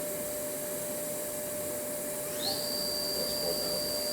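A 2015 Milltronics RH-20 vertical machining center's Cat 40 spindle winds up: a thin whine sweeps upward, then holds as a steady, piercing high tone over a constant mechanical hum.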